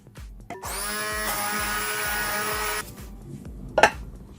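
An electric beater whirs steadily for about two seconds as it blends flaxseed gel with glycerin, with clicks and knocks of handling before and after it and a short clatter near the end.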